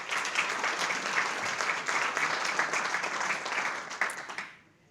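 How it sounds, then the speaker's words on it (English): A luncheon audience at a chamber of commerce event applauds its sponsors, a dense, steady round of clapping from many hands that holds for several seconds before tapering off and fading out at the end. "You can offer them a round of applause as well."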